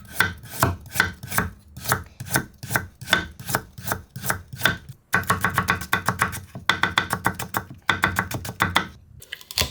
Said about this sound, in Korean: 그냥 칼로 썰어도 돼요.